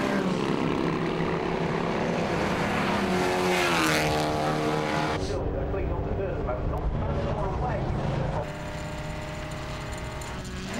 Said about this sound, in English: the cars come through now at the end of the fourth lap